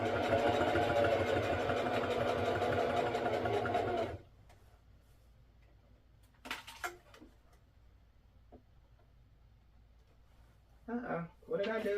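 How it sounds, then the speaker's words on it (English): Sewing machine stitching a prom dress runs in a steady rapid whir for about four seconds, then stops, leaving near silence with a few faint handling noises. "Let's go ahead and take it to the sewing machine."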